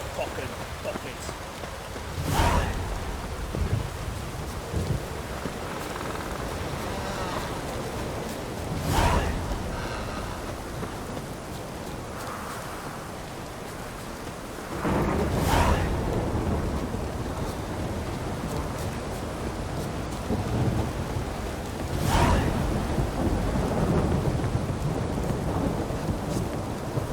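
Heavy rain falls constantly in The Witcher 3 video game while several sharp thunder cracks strike at intervals, each followed by a low rumble.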